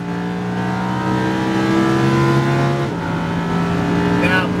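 A Lamborghini Huracan at full throttle on a track, its engine roaring loud and steady with rising harmonics as it accelerates, sounding close and continuous.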